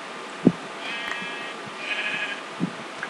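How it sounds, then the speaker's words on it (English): Sheep in the game Minecraft bleat in two short, clear calls, one near the start and one near the end, over soft game ambience and faint musical tones. "I can see that there's some sheep nearby"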